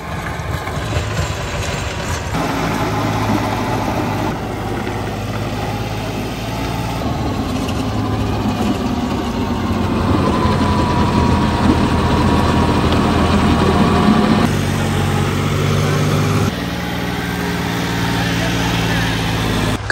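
A farm tractor fitted with a rotavator rumbles loudly at close range, its heavy low engine drone steady and shifting slightly in pitch as it works the field.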